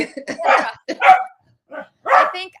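A pet dog indoors lets out several loud, close barks and yips in quick bursts, with a brief pause before a final bark.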